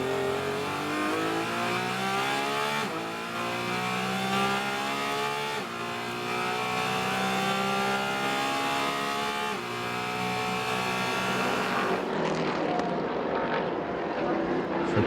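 Trans Am race cars roar past at Sonoma Raceway, engines wailing and shifting through rising and falling pitch sweeps, loud and continuous, with a commentator talking over the racing.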